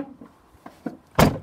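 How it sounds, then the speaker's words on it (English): Door of a Swift motorhome being shut, a few soft handling knocks followed by one solid loud slam near the end, close by. "Shut the door over."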